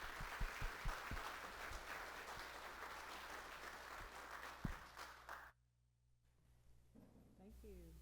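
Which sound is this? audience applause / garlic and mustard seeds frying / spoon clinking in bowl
audience applause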